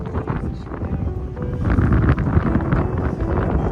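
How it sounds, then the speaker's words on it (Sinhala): Strong wind buffeting the microphone at a hilltop viewpoint above Vilnius, a continuous loud rumbling roar that swells and gusts with no clear speech over it. "උඩට ආවට පස්සේ තමයි තේරුනේ මෙතන හරිම හුළඟ කියලා."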